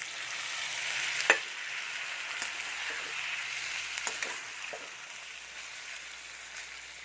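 Boiled green banana with poppy seed paste cooking in a pan, a soft steady sizzle with occasional stirring scrapes and small clinks, fading slightly toward the end.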